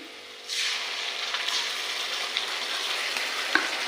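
Onions frying in a pan with salt and ginger-garlic paste for mutton biryani: a steady close sizzle that jumps up after a quieter start, with faint stirring scrapes.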